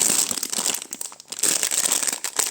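A plastic packet holding vintage jewellery crinkles and rustles up close in quick, irregular bursts, briefly pausing midway before crackling again.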